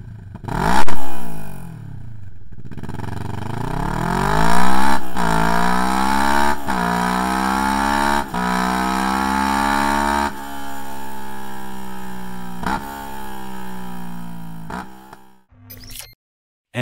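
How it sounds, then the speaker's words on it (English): Kawasaki Ninja 650 with an Akrapovic exhaust system, revved repeatedly at close range: a series of sharp throttle blips that sweep up in pitch and fall back between bursts, loud and alone. "Here is the sound of a Ninja 650 with an Akrapovic exhaust system installed."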